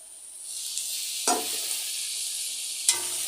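Spices and a splash of water sizzle and hiss steadily in a hot sauté pan. Two sharp scraping bursts of stirring cut through the close, continuous frying sound.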